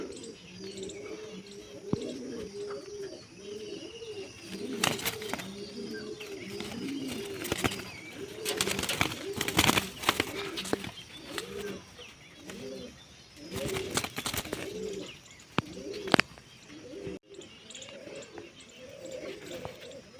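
Young pigeons coo in a steady soft chorus close by as they are let out to fly in May heat, with brief wing flutters and scattered clatters breaking through now and then.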